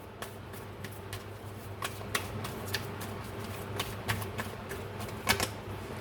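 Tarot cards shuffled by hand for a reading, giving a steady run of soft, quick clicks and riffles with a few sharper snaps, close and fairly quiet over a low background hum.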